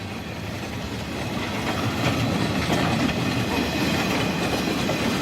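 A long freight train passes on cold winter rails, giving a steady rumbling roll with rhythmic wheel clatter that builds slightly and holds close and loud throughout.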